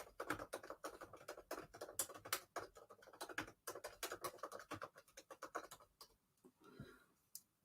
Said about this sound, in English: Let me just quickly type and ask.